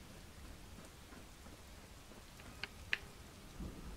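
Faint steady rain hiss in a video game, broken by a couple of sharp crackling thunder cracks near the middle and a low rumble at the end.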